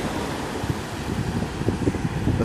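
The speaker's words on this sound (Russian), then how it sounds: "Этот пляж называется Майн Бич." Steady wind and breaking surf on Main Beach in Gokarna, a continuous broadband roar with soft rolling swells, no voices, close and fairly loud throughout.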